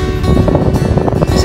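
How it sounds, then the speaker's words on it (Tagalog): Strong wind at sea on a blustery morning buffets the microphone, a continuous loud rumbling roar with gusty swells and no speech. "Mahangin na umaga."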